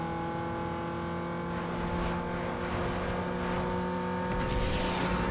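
A car engine over-revs in Need for Speed Underground 2, a loud sustained high-pitched drone that holds steady, then shifts near the end.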